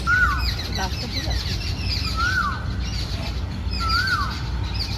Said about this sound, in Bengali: কোকিলও ডাকছে, এই গাছটাতেই বোধহয় আছে।